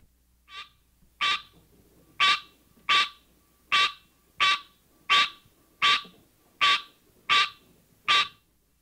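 Green tree frog (Hyla cinerea) calling: about eleven loud, nasal, bell-like honks repeated at a steady rhythm roughly every three-quarters of a second, close and alone.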